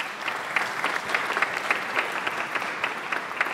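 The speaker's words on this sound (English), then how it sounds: "Will you give her a round of applause?" An audience at a forum on growth and opportunity in Africa gives a round of applause, a sustained, even clapping of many hands lasting a few seconds without speech.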